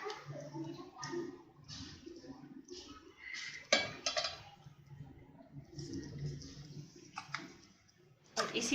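Homemade almond kulfi is scooped into disposable ice cream cups, giving soft scraping, tapping and clinking of a cup against a container in a kitchen, with a sharper knock near the middle and at the end.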